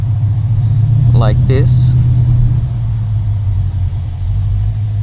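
Low, steady engine drone and road rumble from a Mercedes being driven out of a garage in sports mode, heard from inside the cabin, with a brief voice over it.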